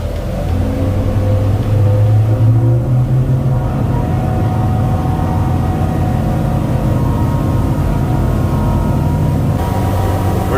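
A Pursuit boat's engine drones loud and steady at wide-open throttle on a straight run, with a constant hum and little change in pitch.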